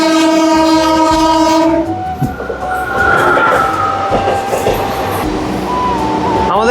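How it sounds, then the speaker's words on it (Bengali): A Howrah to Digha local train runs at speed, opening with a long loud horn blast, then a close, steady rumble and clatter of the carriages rolling along the track, with a second horn near the end. "আমাদের ট্রেন এখন ক্রস করছে আন্দুল স্টেশন।"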